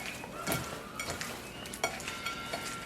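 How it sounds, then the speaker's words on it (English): Raw shrimp tossed in a bowl with onion powder, salt and Cajun seasoning, giving soft wet scraping and clinks of a utensil against the bowl, close and fairly quiet, several uneven strokes, no voices. "Now I'm just going to coat my shrimp with everything."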